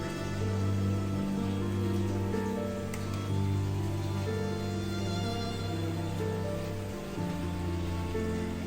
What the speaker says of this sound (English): I always enjoyed the rain sound mixed with the wind and the unpredictability feeling